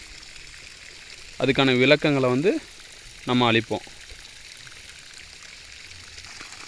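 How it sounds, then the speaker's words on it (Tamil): Irrigation water runs steadily along a channel on a coconut farm, a constant low rushing that continues under stretches of nearby speech. "தண்ணீர் வந்து ஒரு 3/4 வாய்க்கால் அளவுக்கு பாஞ்சிருச்சு."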